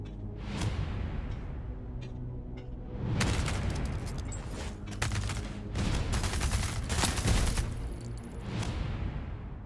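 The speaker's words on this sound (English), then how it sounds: "Those grenades are pretty anemic." Grenade explosions and rapid gunfire in a shooter game demo, with scattered shots and then a dense sustained barrage of bursts and booms, loud and close.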